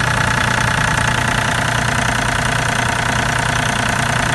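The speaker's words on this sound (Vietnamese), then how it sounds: "Con này 3KR2 thì cái tiếng máy của nó nổ cực kỳ hay rồi, rất là êm, rất là giòn á. Đây, tiếng máy nó đang nổ." Diesel engine of an IHI 35 GX-3 mini excavator, a 3KR2 engine, idles steadily and loudly up close, with an even low rumble and a fast regular knock that continues throughout with no talk.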